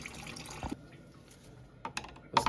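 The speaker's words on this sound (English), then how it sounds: "Now carefully try to pry this open and let the coolant flow out carefully." Coolant draining from a Chevy Traverse, heard as faint intermittent liquid trickles and drips with short louder splashy bursts near the start and end.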